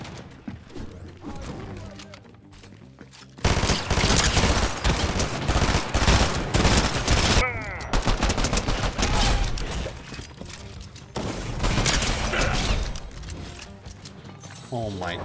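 Rapid pistol gunfire in a fast-paced ranked video game match, sharp repeated shots in dense bursts over mechanical clicks and game effects, with a stretch of quieter sound before the firing starts.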